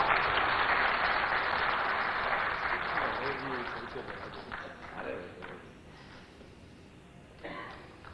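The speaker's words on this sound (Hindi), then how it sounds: "जोरदार तालियां हो जाए एक बार।" Audience applause at an honouring ceremony during a Hindi political interview event, loud and dense at first, then tapering off, with a voice talking over the fading claps.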